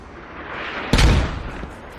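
A commander mortar fires in a competitive team shooter, one sharp loud boom midway with a rumbling tail fading over the next second.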